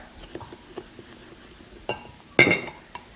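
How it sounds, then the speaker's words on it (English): Spoon clinking against a bowl while sugar and salt are stirred together for corn chowder, soft light taps throughout and one louder sharp clink near the end, close up. "Now we're going to mix this up"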